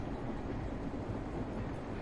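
Steady train ride rumble from the video game Elroy and the Aliens, a dense, continuous rolling drone with no talking over it.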